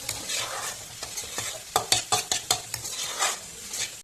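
Vegetable momo filling is stir-fried in a pan under a steady sizzle, with a quick series of sharp spatula scrapes and clacks against the pan in the middle, close and without talking.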